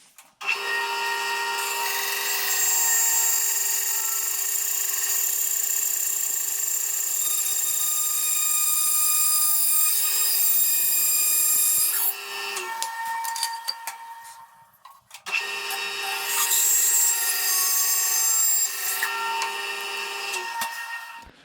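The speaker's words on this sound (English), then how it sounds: "Let's move it very close to the blade and see what kind of thin veneer we can cut." A bandsaw cuts thin veneer from softwood with a loud, steady whirring blade hum and rasping cut. The tone drops for a few seconds as the cut pauses, then resumes at full level.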